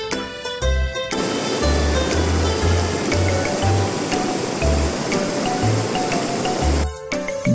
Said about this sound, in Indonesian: menikmati gemercik air yang mengalir di bawah kaki kita